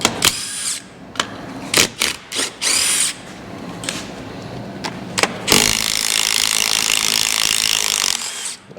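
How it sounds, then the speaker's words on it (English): An impact wrench works on a hot rod motor during teardown: a string of short, loud rattling bursts, then one long continuous hammering run close by, with no talking. "Let's see if we can impact this off now."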